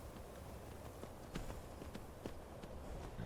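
Horse hooves clip-clopping in the Skyrim video game, a faint steady walking rhythm of hoofbeats over a noisy background.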